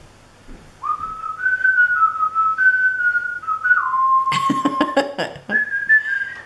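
A man whistles a tune with steady sustained notes and small slides, close and clear. A sudden burst of clattering noise interrupts midway before the whistled melody resumes.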